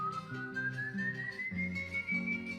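An eerie, sustained whistle slowly rises in pitch over a low droning bed of shifting tones, haunting and continuous throughout, evoking the ghostly El Silbón.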